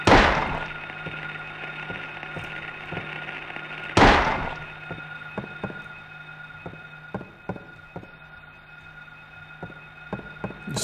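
Two loud gunshots ring out in the Silent Hill video game, about four seconds apart, each with a booming echoing tail, and faint clicks and thuds fall between them. No one talks.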